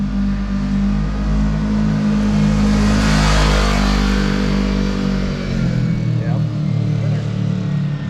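A Kawasaki KRX 1000 side-by-side engine with a new GGB muffler revs loudly and deeply, climbing to a raspy peak and then settling back to a rumbling idle, close by.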